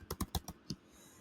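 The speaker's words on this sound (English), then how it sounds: "I know you can't see what I'm typing right now." Keys clatter on a computer keyboard in a quick burst of about five close taps, then stop, leaving quiet room tone.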